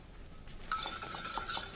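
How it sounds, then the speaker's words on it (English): Salt and pepper whisked together in a bowl for a squash dish, a quick run of light metallic scraping and clinking strokes, close and fairly loud after a quiet start, with no talk. "just whisk it all together"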